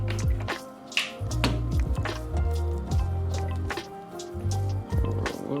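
Motor oil glugs and splashes in uneven bursts as it is poured from a quart bottle into the primary case of a Harley-Davidson Softail or Touring motorcycle during an oil change, close and clear.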